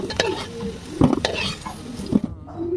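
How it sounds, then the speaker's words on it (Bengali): Potato pieces frying in oil in a pan (kadai) being stirred with a spatula, with clinks of the utensil against the metal over a soft sizzle, close and alone. "এখানে আলুটা লাল লাল করে ভাজা হয়ে গেছে, তো আমি এটা করে তুলে নিচ্ছি।"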